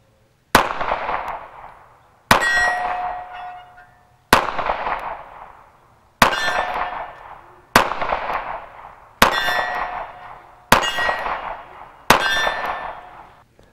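A Bulgarian Makarov pistol fired outdoors, with eight loud, sharp gunshots spaced one to two seconds apart. Each shot has a clanging ring and a long echoing decay, and no one speaks.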